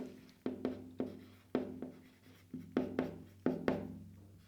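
Quick bursts of keyboard typing close by, clusters of rapid clicks separated by short pauses, with no voices.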